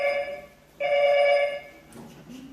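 A telephone bell rings in two bright, buzzing bursts separated by a short pause, then stops, leaving a quiet room with faint low sounds.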